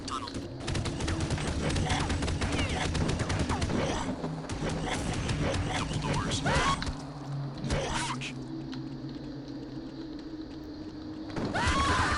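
Dense, rapid gunfire from a zombie swarm video game fills the first seven seconds in continuous bursts, then thins to scattered shots and mechanical clatter before the noise swells again at the end.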